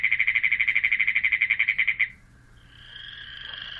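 A North Dakota frog or toad gives a rapid, steady pulsed trill of about twenty evenly spaced notes. The trill stops abruptly, and a fainter, higher buzzing call follows. Both calls are heard alone with no talking.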